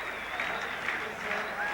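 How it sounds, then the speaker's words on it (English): Paris rugby crowd applauding and cheering after a long interception try against the Sheffield Eagles in 1996, a dense, steady roar of clapping and voices filling the stadium, with commentary talk running over it. "the Paris crowd are on their feet again"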